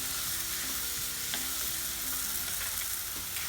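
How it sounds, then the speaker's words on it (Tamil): Tomato and masala sautéing in a pan while making karuvadu thokku, a steady dense sizzle with faint occasional scrapes of a spoon, continuous and close, no voices. "தக்காளி, மசாலா எல்லாமே நல்லா வதங்கிருச்சு."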